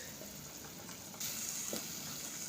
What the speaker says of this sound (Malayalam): അരപ്പ് തിളച്ച് വരാൻ തുടങ്ങിയിട്ടുണ്ട്